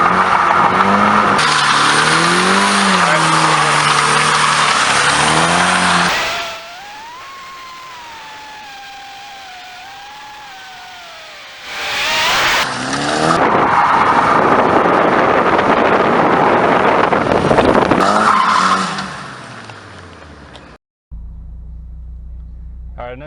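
Nissan S14 Silvia drift car sliding with long tire squeal and skidding over a revving engine, loud and close, with wind buffeting on the microphone, a quiet stretch in the middle, then the squealing slide returns.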